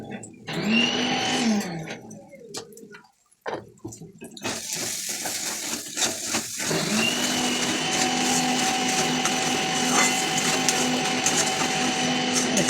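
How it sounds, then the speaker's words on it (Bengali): An electric mixer grinder grinds sugar in a home kitchen, its motor rising into a loud, steady, high-pitched whirring roar that runs continuously after a brief stop-start at the beginning. "মিক্সি চলছে আওয়াজ হচ্ছে"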